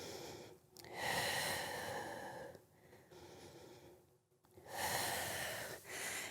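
Slow, deep breaths during a Pilates mat stretch, long airy inhales and exhales in a steady rhythm, close and fairly quiet with no talking.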